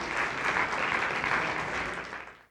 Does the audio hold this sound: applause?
yes